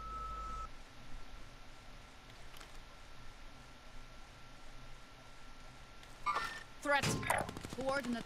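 Gunfire in the video game Call of Duty Cold War Warzone: low-level battlefield ambience with a faint distant shot, then a cluster of louder, closer shots and bursts near the end.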